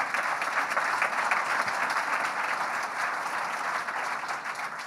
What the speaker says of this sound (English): So we give her a big round of applause for handling that.